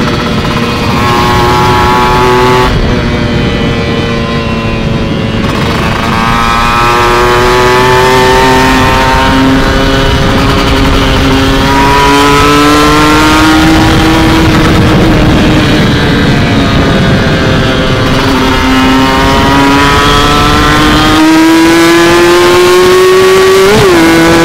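A motorcycle fitted with a TM 34 carburetor revs loudly and close during a test ride, the engine note rising and falling through repeated throttle blips over a sustained drone.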